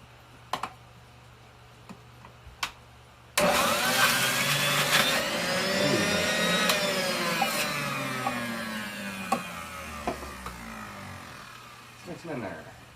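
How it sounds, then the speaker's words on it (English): A juicing food processor starts abruptly and runs loud and steady, its whining motor drifting in pitch as fruit is liquefied, following a few soft knocks before it starts. "The fun you can have with a food processor, right, guys?"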